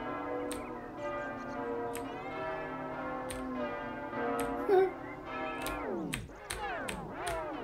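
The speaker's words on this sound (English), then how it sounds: "if you move, the bells like get completely fucked up" Train bells in the video game Train Simulator 2015 clang in a steady series of repeated strikes over a sustained ringing drone, with the pitch bending and warping toward the end.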